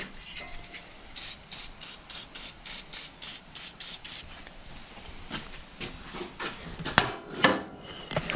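CRC corrosion inhibitor sprayed from an aerosol can onto a cleaned, shiny part in a home repair setting: a run of short, rhythmic hissing bursts, near and fairly loud, followed by a few metallic clinks and handling noises.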